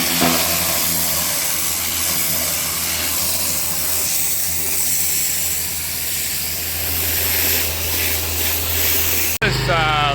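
A pressure washer fires through a turbo nozzle during garden power washing, a loud, steady broadband hiss with an engine drone that runs continuously for about nine seconds before cutting off abruptly.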